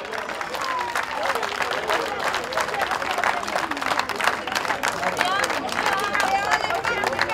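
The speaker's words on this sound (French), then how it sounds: "Vous pouvez encore une fois les applaudir." Audience clapping at a French veterans' triplette pétanque championship, steady applause mixed with crowd chatter and raised voices close by.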